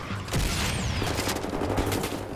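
Rapid gunfire mixed with explosions of destroyed robots in the shooter Wolfenstein: The New Order, a loud, dense barrage of overlapping shots and blasts lasting the whole moment.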